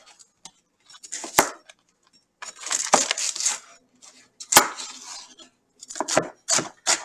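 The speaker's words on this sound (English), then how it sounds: "let's get this celery cut up and diced as well and put that in there" Knife chopping and dicing celery on a cutting board, irregular clusters of sharp close taps with brief pauses between them, no talking.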